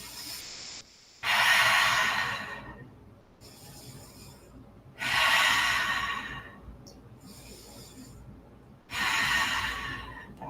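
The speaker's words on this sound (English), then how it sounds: "Breathing." Deep yoga breaths during a studio yoga flow, three long, loud exhalations alternating with quieter inhalations in a slow, steady rhythm, heard close and alone.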